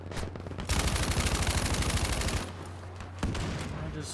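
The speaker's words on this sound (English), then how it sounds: "I'm pretty sure I just watched a tank round fly through a teammate right next to me." Video game battle with sustained rapid gunfire forming a dense continuous rattle, broken by heavier booming shots that fit a tank round, loud and close with no talk over it.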